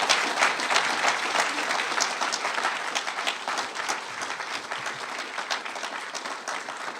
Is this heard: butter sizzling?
no